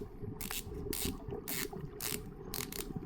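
A unidirectional ceramic bezel on a titanium 500 m dive watch is turned in short bursts, giving about five quick ratcheting click runs, close and crisp against a low background hum.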